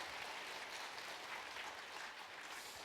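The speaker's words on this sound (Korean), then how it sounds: "여기 앉아있는 우리 청년들에게 박수 한번 보내주시죠." A church congregation gives a round of applause during a Sunday service, a faint, even patter of many hands clapping continuously and heard from a distance.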